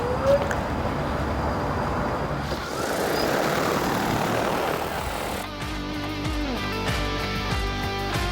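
A DJI Agras T20P agricultural spraying drone lifts off near a rice field, its rotors rising into a loud, steady whirring roar that shifts in pitch as it climbs.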